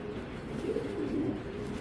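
A top-quality male racing pigeon from a club-bred loft cooing, a low, soft, continuous throaty murmur held close for under two seconds.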